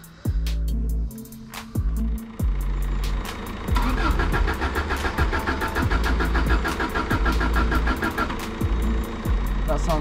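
A misfiring Subaru Impreza cranks and struggles to start, with repeated rhythmic starter clicks and rough, uneven firing that builds into a loud, sputtering idle close by.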